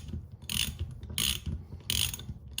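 A ratchet wrench tightens bolts on a classic Mini during front disc and ball joint work. It gives three loud, close bursts of quick ratcheting clicks with short pauses between them, and nobody speaks.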